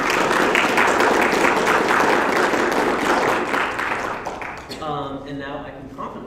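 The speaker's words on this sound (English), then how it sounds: "but let's get a big round of applause for" Audience applause at a university student debate on protest goals, loud dense clapping for several seconds that fades as a voice begins speaking at the end.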